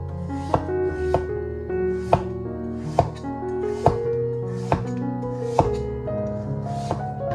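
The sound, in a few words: knife slicing pumpkin into thin slices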